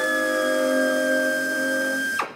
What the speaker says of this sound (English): And then drill it.